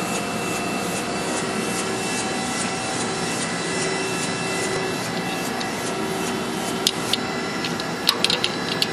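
An Amada Wasino CNC surface grinder slot-grinds the nib off a punch, giving a steady loud whirring hiss with a sustained tonal whine and faint rhythmic reciprocation, a few sharp ticks near the end.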